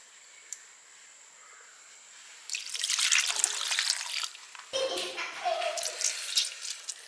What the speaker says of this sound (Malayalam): ഒരൽപ്പം വെള്ളം ഒഴിക്കും